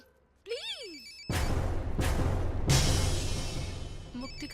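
A telephone rings amid a dramatic scene: a short warbling ring tone sounds near the start, then a louder, dense burst of noise and music follows.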